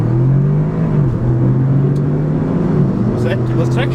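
A 2018 Audi S3 and a 2018 Ford Focus ST Mountune Edition launch from a standstill, with a loud, close engine roar holding a strained tone before rising toward the end, and voices faintly mixed in.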